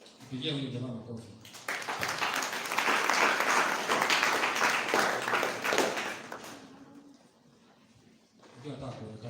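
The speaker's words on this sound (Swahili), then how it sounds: "Pigia huyu jamaa makofi." An audience at a career guidance session breaks into a burst of clapping for a student, building to a dense, sustained applause for several seconds before fading, with talking just before and after.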